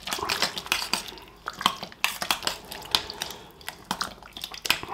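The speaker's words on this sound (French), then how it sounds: "Je mélange bien." A spoon works through pumpkin pie filling made with potimarron, pepper, nutmeg and cooking rice cream in a bowl, scraping and clinking against the sides in irregular close strokes with soft wet squishes.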